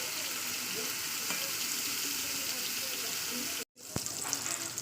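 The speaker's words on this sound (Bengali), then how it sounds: "যেমন বেগুন ভাজা হয় তেমনই বেগুনটা ভাজা করে নেবো" Eggplant frying in hot oil for a fish curry with tangra, a continuous hissing sizzle close by that drops out briefly near the end before resuming.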